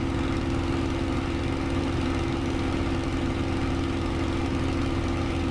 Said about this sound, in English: So we'll come back up to full RPM, we'll go about 8 on the boost, build up a little bit of speed